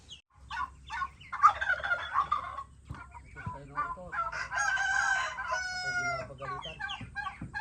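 Turkeys gobble loudly and repeatedly on a rural farm by a rice field, warbling calls overlapping with clucking fowl nearby, with a little voice in the background.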